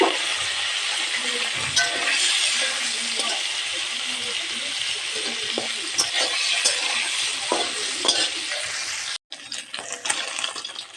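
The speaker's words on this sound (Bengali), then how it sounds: "তেল গরম হয়ে গেছে, এখন মাথাগুলো এতে দিয়ে দেব।" Fish heads (the bony head parts of sati fish) fry in hot oil in a wok, giving a steady loud sizzle for several seconds with occasional stirring clinks and a brief break near the end.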